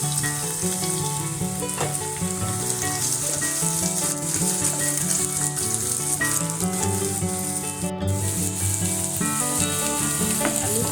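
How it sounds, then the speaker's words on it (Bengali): Chopped onion fries with already-fried potatoes in a pan for a Bengali banana flower curry, giving a steady close crackling sizzle with occasional stirring rattles throughout. "পেঁয়াজ সমানভাবে ভেজে নেব"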